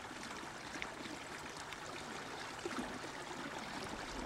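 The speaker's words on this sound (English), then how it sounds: "There's no shortage of water sources as the melting snow runs down to meet the sea" Snowmelt water from a stream on Kodiak Island rushes steadily down toward the sea, a continuous broadband gush with no pauses, heard faintly from a short distance.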